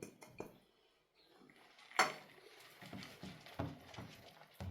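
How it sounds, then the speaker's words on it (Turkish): Cheese filling for a Turkish börek is stirred in a bowl, with soft scraping and irregular clinks of utensil against dish, fairly quiet and close, with one sharper knock partway through. "Bunu da güzelce içerisine karıştırıyorum."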